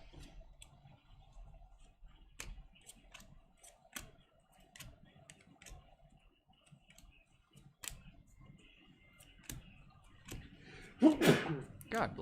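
A single loud sneeze bursts out near the end, following a stretch of quiet clicking and handling noises at a trading card break.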